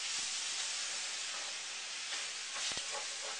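Chicken stock simmering and reducing in a stir-fry pan with wild rice: a steady, even hiss that continues throughout, with a few faint pops near the end and no talking.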